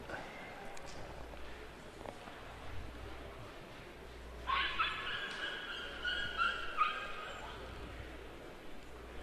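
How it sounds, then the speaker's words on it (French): Dog barking during an outdoor pétanque match, a few sharp yips and barks in the middle, fairly distant and faint against a steady outdoor background. "il y a un chien qui aboie"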